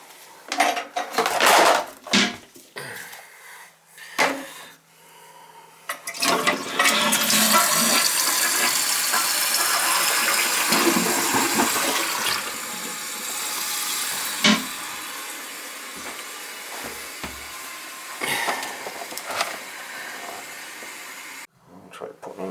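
A household toilet with a running leak, likely from a faulty flapper, flushes in a loud rushing gurgle, then water keeps hissing and trickling as the tank refills, with a few clanks of the tank lid and parts nearby.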